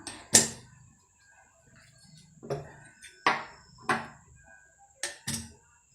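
Scissors trim the excess fabric from freshly sewn invisible thread piping, giving a handful of crisp, separate snips spaced irregularly with quiet pauses between them, close and fairly soft.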